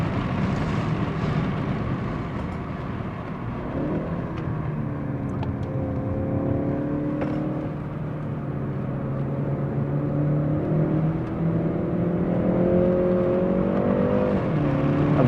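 A car lapping the wet Zandvoort Formula 1 circuit, its engine droning and rising in pitch through gear changes with a steady road and tyre roar throughout, heard from inside the cabin with no talking.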